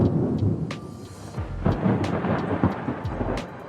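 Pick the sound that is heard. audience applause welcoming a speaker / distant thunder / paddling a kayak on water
distant thunder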